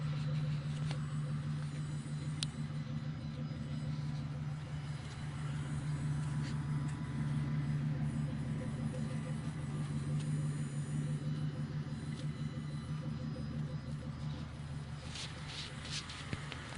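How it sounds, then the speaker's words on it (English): A 1992 Mercury Grand Marquis V8 with Flowmaster 40 mufflers idles with a deep, steady rumble, low and continuous, with a throaty exhaust burble that holds even throughout, close by and unbroken. "let's hear the exhaust."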